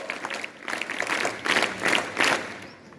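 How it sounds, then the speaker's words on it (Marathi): A hall audience at a school prize-giving and Shivaji Jayanti event applauds successful students, the clapping rising in several swelling waves of moderately loud, fairly close crowd applause before fading out. "आपण एकदा जोरात टाळ्या वाजवून अभिनंदन"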